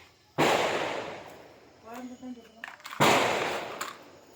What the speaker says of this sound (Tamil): நம்ம தௌசண்ட் ஒன்று வைக்க போகிறோம் மக்களே